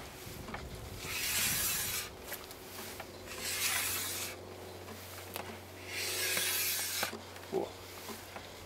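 A Skigo base scraper is pulled along a ski base in long, separate, close strokes of dry rasping with short pauses and small knocks between them, and no talking.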